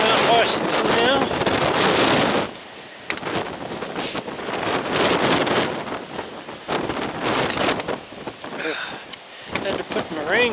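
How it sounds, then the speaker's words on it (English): Strong wind roars across a mountain summit on Mount Washington in the Presidential Range, buffeting the microphone in loud, continuous gusts that ease briefly and then surge again. "Cut back some of that wind."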